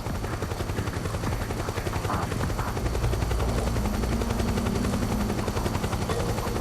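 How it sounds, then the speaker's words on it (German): Helicopter in the video game Metal Gear Solid 4: Guns of the Patriots, a loud, steady rotor chop pulsing evenly through the whole stretch with no talking. "Will der Helikopter hier jetzt landen?"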